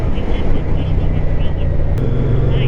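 A 2024 Moto Guzzi Stelvio motorcycle engine runs at low revs, a steady low rumble with wind noise over it while a rider talks throughout.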